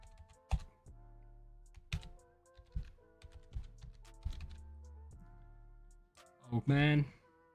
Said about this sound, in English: Old man typing, get over yourselves.